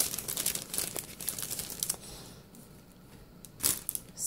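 Crinkling and rustling of a thick sticker package being opened, busy and close for the first two seconds, then quieter with a sharp crackle near the end.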